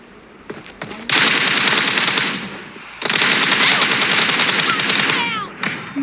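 Sustained automatic gunfire from a PUBG Mobile match, two long loud bursts of rapid shots separated by a brief pause, with faint talk underneath.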